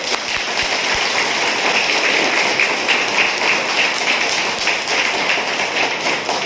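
Loud, sustained applause from an audience at a direct-selling business seminar, a dense, steady wash of clapping that lasts the whole stretch without a break.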